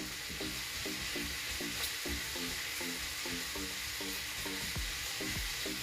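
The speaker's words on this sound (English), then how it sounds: "We're gonna saute the onions and then the garlic after." Onions and garlic saute in a hot pan for a Filipino pork and vegetable dish, a loud continuous sizzle with rhythmic stirring scrapes and clinks close by.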